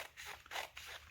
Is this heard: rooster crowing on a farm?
no